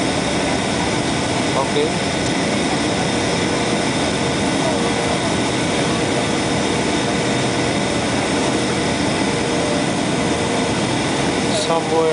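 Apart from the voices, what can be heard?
United Airlines Airbus A320 landing at San Francisco airport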